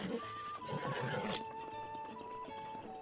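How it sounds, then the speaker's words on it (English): Horse neighs and whinnies in a video game on the Switch 2, a sustained tonal whinny over busy game sounds with a faint voice, hoof clip-clop barely evident. "I have a horse named Hort"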